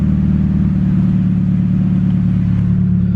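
A Honda D16Z6 engine fitted with an HX35 turbo runs steadily and loud, a continuous low rumbling drone that holds even throughout with no pauses or voices.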